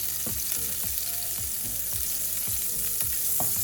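Margarine melting and sizzling in a pan after pork sausage, Polish sausage and bacon were cooked in it, a constant close crackle broken by regular soft scraping strokes about every half second.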